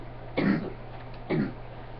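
Two short, throaty coughs about a second apart, close by, over a low steady hum.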